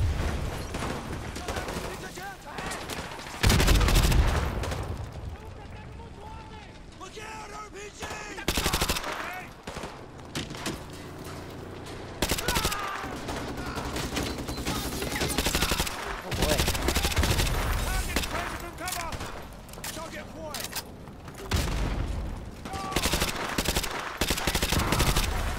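Gunfire in the video game Call of Duty Modern Warfare 2 Remastered, with loud bursts of rapid machine-gun fire and booming shots coming in waves, a player talking over the action.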